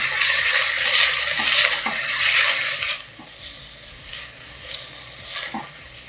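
Thinly sliced onions frying in a pan with cardamom, cloves and fennel for tomato rice, a loud bright sizzle that suddenly drops to a quieter crackle halfway, with a few light stirring knocks.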